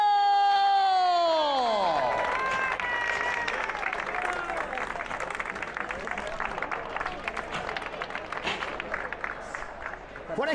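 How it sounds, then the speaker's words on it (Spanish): Crowd applause with some cheering at a trophy ceremony for a student trail race, steady and continuous after a descending synthetic tone at the start, with voices audible in the mix. "claro, y el aplauso"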